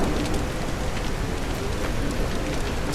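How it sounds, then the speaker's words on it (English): Rain in a survival video game patters steadily on the floor, a dense, even hiss of drops that is close and continuous, with no talking. "look at the rain hitting the floor"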